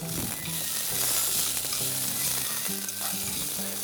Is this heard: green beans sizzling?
yes